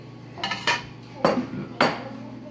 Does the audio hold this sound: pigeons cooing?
no